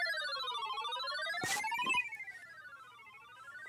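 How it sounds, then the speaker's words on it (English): A Samsung SGH-X450 mobile phone plays a polyphonic ringtone, a bright synthesized melody stepping up and down in loud tones, with a brief rustle partway through and no talking. "That's an absolute annoying ringtone"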